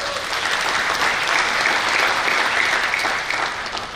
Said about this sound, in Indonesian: Tepuk tangan untuk Bu Inge